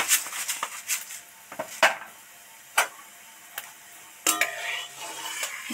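Dried red chilli halves, bay leaves and five-spice seeds being stirred slowly in hot oil in a pan, with scattered clinks and scrapes of a spoon against metal over a faint sizzle.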